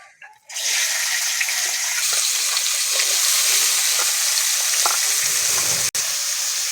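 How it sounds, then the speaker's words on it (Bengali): Washed, chopped vegetables hit hot oil in a pan after a cumin tempering for a vegetable dal, setting off a loud, steady sizzle that holds without a break, with a brief clatter near the end. "কেটে রাখা সবজিগুলো ভালো করে ধুয়ে নিয়েছি তেলের ওপরে দিয়ে দিচ্ছি"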